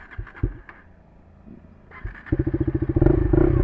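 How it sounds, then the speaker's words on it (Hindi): KTM Duke 250 motorcycle fitted with an Austin Racing slip-on exhaust, a few sharp throttle blips and then a rapidly pulsing, rising single-cylinder bark as it pulls away hard. "हमारी बाइक में अभी लगा है ऑस्टिन रेसिंग का एग्जॉस्ट स्लिप ऑन।"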